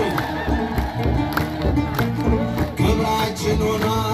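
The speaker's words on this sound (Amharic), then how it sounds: "እልል ይባላል ይጨበጨባል" A congregation ululates and claps during a hymn sung for Saint Arsema the martyr: shrill crowd trills and sharp rhythmic handclaps ring out loudly over sustained singing voices.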